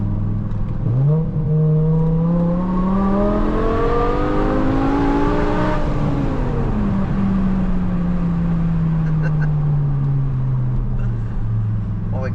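A BMW E60 M5 with its V10 engine revs hard, its howling tone rising steeply to a peak, then dropping back and easing down in a long fading pull, loud and close.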